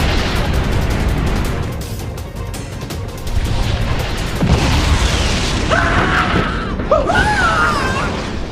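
A bomb dropped from above bursts on the ground with a loud boom and rumbling crash, followed by high whistling and screeching tones over continuing noise.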